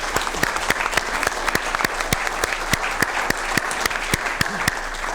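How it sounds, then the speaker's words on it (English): An audience at a county board of supervisors meeting gives a round of applause, a steady wash of many hands clapping with sharp individual claps standing out, fairly close and loud, with no voices over it. "how about a round of applause for all those folks?"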